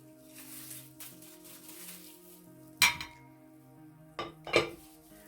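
Spoon clinking against a bowl while tuna and spices are mixed for fish cutlets, a few sharp metallic taps and scrapes spaced out over a quiet kitchen background.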